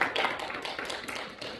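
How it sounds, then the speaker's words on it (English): A church congregation claps for the praise band at a Sunday morning worship service, a dense, steady patter of many hands in a reverberant room, moderately faint and with no talking. "would you give the praise band a hand clap of praise?"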